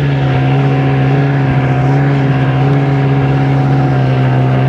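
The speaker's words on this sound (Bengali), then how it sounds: "জীবনে প্রথমবার স্নো বাইকে উঠলাম" A snow bike engine drones loudly and steadily throughout a ride in the snow at Sonmarg, Kashmir, a constant close-up hum with no talk.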